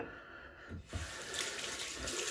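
A water tap runs steadily into a sink while shaving gear, a Rockwell Model T razor and a synthetic brush, is rinsed. A close, continuous hiss holds throughout, with a brief dip partway through as the flow is interrupted.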